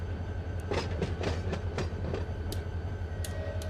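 A locomotive in the Run 8 train simulator, a Norfolk Southern yard scene, rumbles steadily with a low engine drone and repeated clicks and clanks of the wagons, moderately loud and with no talking.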